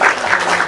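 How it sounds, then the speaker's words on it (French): A single person claps a few times, loud and close, a brief burst of sharp hand claps with nothing else behind it. "Je vous applaudis un peu."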